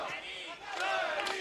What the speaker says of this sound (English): the crowd trying to inspire their man